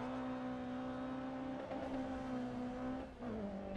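A BMW race car in Grid Autosport holds a steady, droning engine and exhaust note at high revs, with a brief dip and shift in pitch near the end, continuous and without speech.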